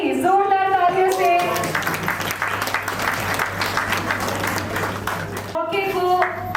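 At a cooking competition grand finale, a studio audience breaks into loud, sustained applause for the first prize winner, the clapping rising under and between a host's voice talking and music at the start and end.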